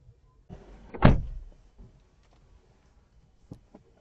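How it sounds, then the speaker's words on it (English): A single solid car door thud lands after a brief rustle, followed by a few faint clicks and knocks in otherwise quiet surroundings. "Now that noise was me just shutting the doors."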